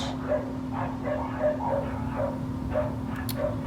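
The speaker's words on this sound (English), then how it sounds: "Dog's barking outside." A dog barks outdoors in a steady series of short yips and bow-wows, muffled and somewhat distant, heard over a constant low hum indoors.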